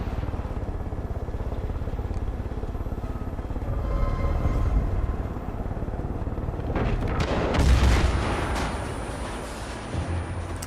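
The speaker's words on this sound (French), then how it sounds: "des petites explosions comme ça" Explosions and gunfire in the video game Far Cry 5, a dense rumbling wash of booms and rapid crackling shots, swelling in bursts around the middle, with no talk.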